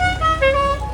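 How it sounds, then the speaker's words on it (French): An old Volkswagen Beetle's klaxon horn sounds one loud, sustained, slightly wavering honk lasting under a second. "Dans les vieilles coccinelles avec le vieux klaxon."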